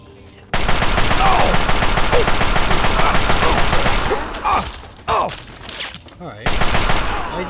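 Rapid automatic gunfire in Fallout 3 on Xbox Series S, loud sustained bursts that break off into shorter volleys with brief gaps, and a voice speaks faintly beneath the shooting.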